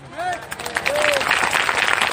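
A congregation at a Christian prayer meeting claps together in a dense, continuous wash of applause that builds after a short spoken phrase, with voices audible at the start.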